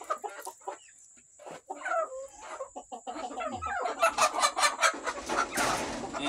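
Huluano hens cluck and a rooster calls close by in a farmyard, with scattered bursts early on that become dense, rapid overlapping clucking in the second half.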